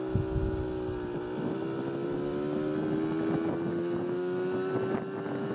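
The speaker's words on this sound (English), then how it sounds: "just cruising down to the post office on the 1981 Honda nc50 Express" A 1981 Honda NC50 Express moped fitted with a Dellorto SHA 15/15 carburetor and MLM intake adapter cruises along a road, its small engine droning steadily with a slowly rising pitch under wind buffeting.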